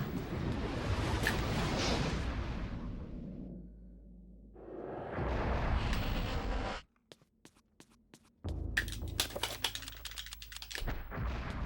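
Explosions and impact bursts on a trapper enemy in Eternal Darkness: Sanity's Requiem, with whooshing effects, a sudden near-silent gap, then a run of sharp, crackling game blasts.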